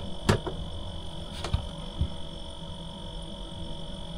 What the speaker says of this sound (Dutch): de koelkast hier staat nog te snorren